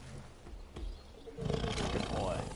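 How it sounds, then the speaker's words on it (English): A pet black tiger in the Far Cry Primal video game lets out a deep, growling roar that swells midway and carries to the end, mixed with a person talking. "That's my pet tiger."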